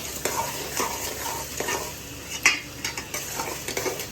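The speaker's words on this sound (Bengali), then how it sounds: "এবারে এটাকে নেড়ে নেব।" Crushed ginger and soya rice ingredients are stirred in a cooking pot, giving repeated scraping strokes over a faint background sizzle, close and fairly quiet.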